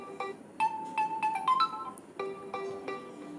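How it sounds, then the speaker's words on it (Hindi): Realme tone alarm ringtone on a Realme C21Y phone, a short melodic sequence of bright electronic chime notes in a quick rhythm, clear and close with quiet background and no talk. "मैं रियलमी टोन ले रही हूँ।"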